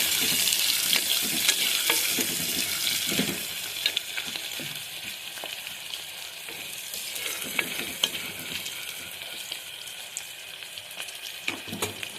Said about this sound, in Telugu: ఆయిల్ వేడైనాక దాల్చిన చెక్క, లవంగాలు, ఉల్లిపాయ ముక్కలు, పచ్చిమిర్చి ముక్కలు కూడా వేసుకున్నాను.